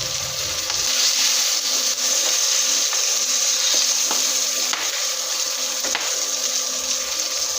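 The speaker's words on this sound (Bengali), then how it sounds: "বোয়াল মাছ ভাজার সময় সাবধানতা অবলম্বন করতে হবে, এগুলো অনেক তেল ফোটে শরীরে এসে পড়ে যেতে পারে।" Boal fish fries in hot oil, a loud, continuous close-up sizzle that hisses steadily throughout, with a few faint taps and clicks of a utensil against the pan.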